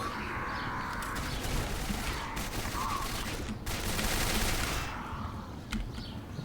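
Assault rifle gunfire in the video game Quake 4, a sustained stream of rapid shots under rumbling game noise with a few faint chirping tones, fairly loud and continuous.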